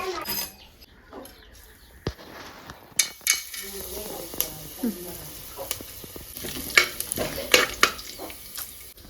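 Cinnamon, cloves, star anise and kasuri methi sizzling in hot oil in a pan for chicken biryani, a steady crackling fry with scattered clinks and stirring scrapes, faint talk in the background.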